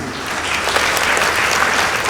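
Audience at a school debate competition claps for the runner-up boys' high school team, a full, even burst of applause filling the whole moment without speech.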